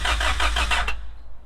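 A car engine cranks with steady repeated churning for just under a second, then fires and settles into a low idle rumble, close and fairly loud.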